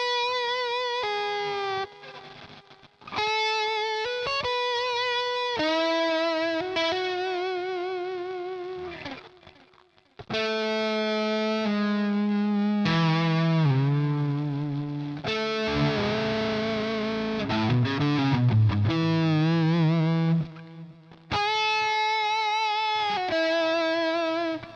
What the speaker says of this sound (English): let me show you how the whammy responds to